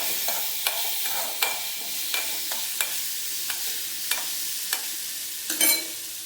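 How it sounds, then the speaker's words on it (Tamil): Neem flowers and fenugreek seeds sautéing in sesame oil, a soft continuous sizzle with repeated scrapes and taps of a spoon stirring the pan at an uneven rhythm, close up with no talking. "இன்னும் கொஞ்சம் நல்லெண்ணெய் விட்டு நல்லா வதக்கிக்குங்க"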